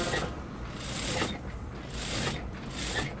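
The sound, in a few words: sewing machine stitching a blouse edge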